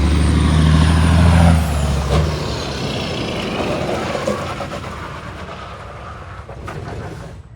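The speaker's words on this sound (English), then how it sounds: "I think that's the brakes." Air brakes on a Peterbilt 359 truck with a PDI turbo: a loud, sharp hiss and deep rumble at the start that fades into steady engine and road noise heard from the cab.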